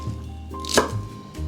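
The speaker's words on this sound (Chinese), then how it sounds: "把高丽菜切成细条状" A knife slices through pre-soaked cabbage, cutting it into thin strips on a board, with one crisp, close chop standing out over a quiet background.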